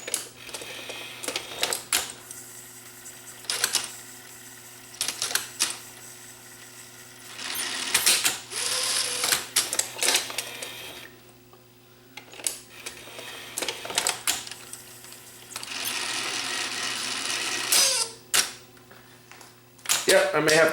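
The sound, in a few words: Sony SL5200 Betamax Hi-Fi VCR mechanism running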